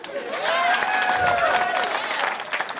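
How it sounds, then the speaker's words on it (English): Comedy club audience at the Laugh Factory in Las Vegas breaks into steady applause and cheering, a dense crowd roar mixed with whistles that holds for a few seconds. "Give him a round of applause."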